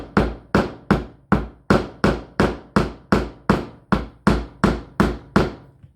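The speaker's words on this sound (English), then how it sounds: "This is just a regular old junk drawer craft hammer." An ordinary junk-drawer craft hammer flattens a small bead-craft piece, striking about a dozen sharp, evenly spaced blows at close range with no talk.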